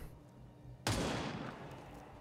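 A single gunshot cracks out in the XCOM 2 strategy game, a sudden sharp burst that decays into a fading rumbling tail over faint ambience.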